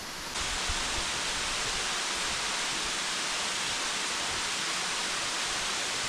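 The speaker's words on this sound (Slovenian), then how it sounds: "Zdaj greva pa pod slap," Water crashes steadily at an icy winter waterfall in Slovenia, a loud, continuous broadband roar that swells in at the start and holds unbroken throughout, with no voices.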